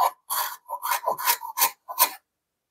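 A Jorgensen No. 102 low angle block plane bevels the end grain of a piece of wood with about seven quick, close rasping strokes in a steady rhythm, then stops.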